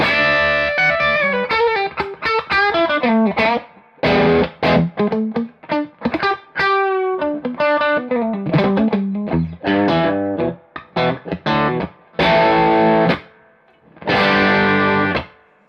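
A Fender Telecaster electric guitar played with distortion, a loud close run of short choppy phrases and chords separated by quick silences, ending on a couple of held strums.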